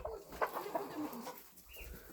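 Bantam hens and other chickens in a backyard poultry yard cluck in short, scattered calls at close range over a busy, noisy background.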